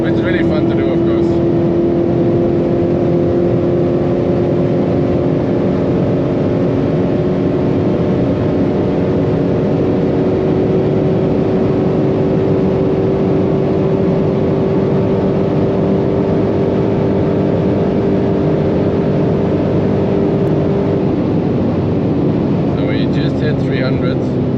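Steady loud roar of a 751hp Dodge Hellcat driving at high speed, engine drone and wind noise continuous from inside the cabin with the whole car shaking.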